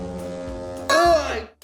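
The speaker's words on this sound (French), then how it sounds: "Oh, c'est un klaxon." A toy car horn, a Doc Hudson cartoon car horn, gives one loud, bright, brassy honk lasting about half a second after a quieter droning tone, then cuts off abruptly.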